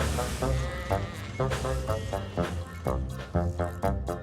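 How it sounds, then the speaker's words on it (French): Sheep in a Thomas & Friends cartoon bleating repeatedly, a steady series of harmonic baa calls alone for about four seconds. "Mike se plaint des moutons auprès de Rex et de Bert."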